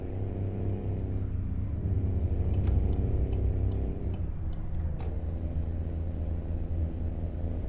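An old Cummins diesel truck engine in American Truck Simulator drones in a steady low rumble throughout, with a few faint clicks and a brief hiss of air partway through.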